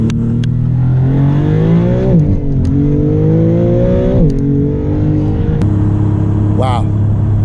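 A Maserati MC20 accelerates from a standstill in first gear, its engine note climbing steadily through two rising sweeps with a dual-clutch gearbox shift between them, loud and close from inside the car.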